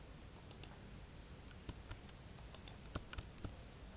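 Text is typed on a computer keyboard into a Microsoft Word document: soft, irregular key clicks, some close together and some spaced apart, quiet over a faint room hum.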